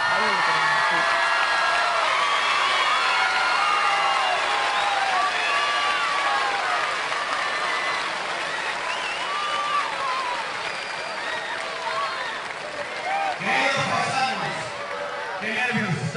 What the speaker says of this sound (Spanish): Fíjate, Elena, me callo para la ovación.